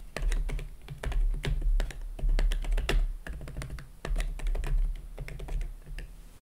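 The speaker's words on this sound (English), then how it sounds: "With all the clacking noise, you're correct to assume that I'm attached to a keyboard." Fingers typing on a computer keyboard, a steady run of close, crisp clacking keystrokes with only brief pauses, heard alone.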